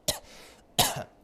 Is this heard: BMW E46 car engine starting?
no